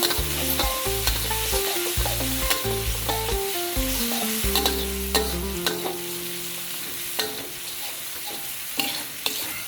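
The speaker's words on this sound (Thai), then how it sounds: "ตามด้วยกระเทียมกับรากผักชีที่เราโ ขกไว้เนี่ยครับ ลงไปผัดให้หอมฟุ้งก่อนเลยครับ" Pounded garlic and coriander root stir-fry in a little oil with a constant crackling sizzle and frequent quick spatula clicks. A stepped, tonal hum runs underneath through the first half.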